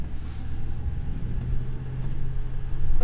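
A 2021 Thor Four Winds 28Z Class C gas motorhome on the road: steady low rumble of engine and road noise from inside the cabin, continuous and fairly even, swelling slightly near the end.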